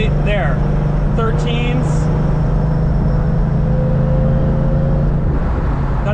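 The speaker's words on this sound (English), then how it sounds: "I'm going to go partial throttle at about 4 vacuum here up this hill" Supercharged Toyota/Lexus engine pulling at partial throttle up a hill, heard from inside the car as a loud, steady drone with constant road and cabin noise, and a person talking over it.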